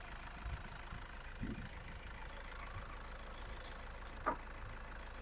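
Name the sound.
Toyota Grand Innova 2.5 V engine idling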